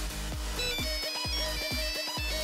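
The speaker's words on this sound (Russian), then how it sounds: "но телефон продолжает упорно посылать сигнал вызова" A Nokia 3310 plays its ringtone as a heat gun melts and deforms the casing: a steady, loud run of electronic melody notes repeating in a regular rhythm, close up, with the gun's broad hiss underneath throughout.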